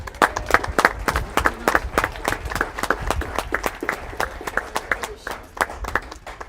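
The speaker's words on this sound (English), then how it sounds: "Let's give him another round of applause" Audience at a high school graduation ceremony applauds, a steady stretch of many hands clapping loudly in an irregular patter throughout, with a few voices mixed in.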